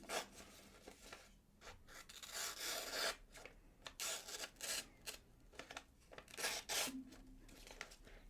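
A knife blade slicing into paper, a faint, close rasping and scraping with uneven strokes and short pauses, no talking.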